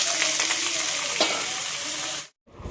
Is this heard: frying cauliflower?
yes